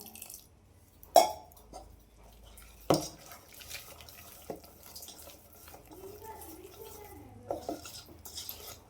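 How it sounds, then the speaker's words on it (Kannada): Chilli bajji batter with ajwain being mixed with water in a bowl: sharp utensil clinks and knocks against the bowl, with soft wet stirring and sloshing between them. "ಸ್ವಲ್ಪ ಸ್ವಲ್ಪ ನೀರು ಹಾಕ್ಕೊಂಬಿಟ್ಟು ಮಿಕ್ಸ್ ಮಾಡ್ಕೋಬೇಕು."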